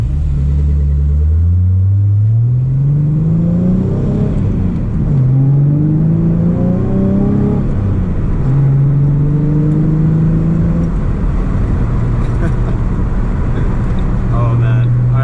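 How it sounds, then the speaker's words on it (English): A Hyundai's 4-liter single overhead cam truck engine revs loudly and close up, climbing in pitch through several rising pulls with brief drops between them and a constant deep rumble underneath. "let's listen to that engine a little bit"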